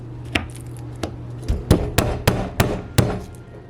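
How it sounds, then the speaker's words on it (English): Raw steak poked repeatedly to tenderize it, about eight sharp close knocks in an uneven rhythm that come faster toward the end, each a short crisp thud on a hard board. "I'm gonna poke a couple holes in this steak, just to, that helps tenderize it"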